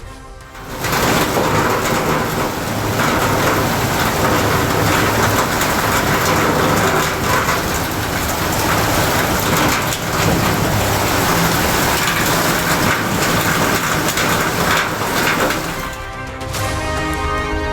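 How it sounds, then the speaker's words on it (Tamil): Heavy rain pours down in Sankarankovil, Tenkasi district, Tamil Nadu, a steady loud hiss with no talk that runs almost the whole way before thinning out near the end. "தென்காசி மாவட்டம் சங்கரன் கோவிலில் வெளுத்து வாங்கிய கனமழை."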